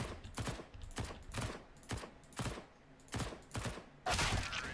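An MP9 submachine gun in CS:GO fires in short, evenly spaced bursts about twice a second, each a quiet, sharp rattle. A louder, denser volley comes near the end.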